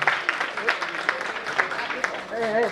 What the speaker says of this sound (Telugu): very good, big clap sir